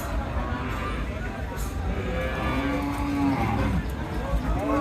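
A cow lows loudly and close at a busy livestock market, one long drawn-out moo rising over the steady murmur of the crowd and handlers.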